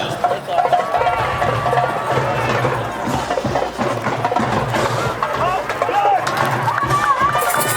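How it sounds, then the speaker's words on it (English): Home crowd at a high school football game between Academy of Richmond County and West Laurens, a steady loud roar of cheering and babble filling the whole stretch, with scattered shouts rising near the end. "Raider faithful cheering on their boys."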